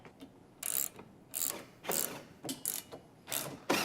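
A ratchet driving screws into a bracket gives about seven short, sharp bursts of rapid clicking, separated by brief pauses, close and clear with no talking.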